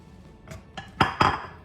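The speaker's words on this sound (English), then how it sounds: "I'm going to mix some of this up. Okay, I'm going to add a little bit more of my butter." A utensil scrapes and clinks against a bowl while butter is worked into a baking mixture, with four short knocks that grow louder toward the end.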